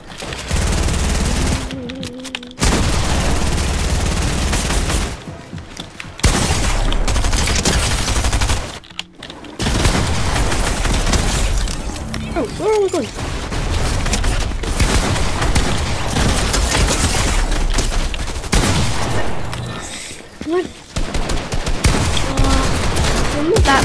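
Gunfire in a Fortnite match: dense, loud bursts of automatic fire and repeated shots run almost continuously, broken by brief gaps, with a player's voice talking over parts of it.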